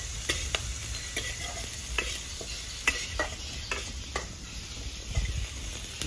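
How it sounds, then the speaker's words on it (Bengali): Whole cinnamon, green cardamom and bay leaves sizzle steadily in hot oil for mutton biriyani, with repeated sharp scraping clicks of a spoon stirring the pan at close range and no voices. "ডালচিনি, ছোটো এলাচ, তেজপাতা দিয়েছি, সব ভেজে নেবো।"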